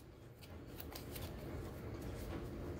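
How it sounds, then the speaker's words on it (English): A deck of playing cards for a tabletop card game is being shuffled up close, giving a soft, continuous papery riffle and rustle with faint clicks, quiet and without talking. "this is my weapons deck, so I'm going to shuffle that"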